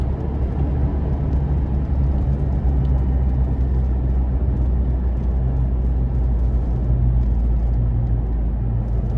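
Steady traffic of cars passing along a road above a motorway between the Korat bypass and Sung Noen, heard as a continuous low rumble and whir without pauses.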